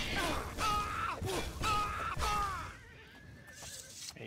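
A horse in the video game Oblivion whinnies loudly several times in a row, with rising and falling neighs that trail off into quieter breathing.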